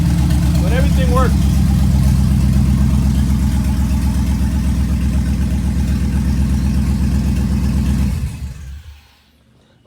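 A 1986 El Camino with an LS engine swap idles loud and close, a steady deep rumble with a lumpy exhaust pulse for about eight seconds before it shuts off and falls quiet.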